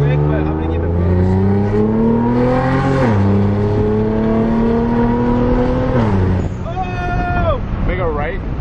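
An Infiniti Q60 with a fixed, flame-tuned exhaust accelerates hard, its loud engine note climbing in pitch through two gear changes before easing off, heard up close with voices in the car.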